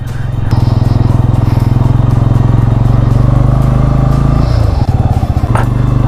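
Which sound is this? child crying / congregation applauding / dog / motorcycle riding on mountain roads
motorcycle riding on mountain roads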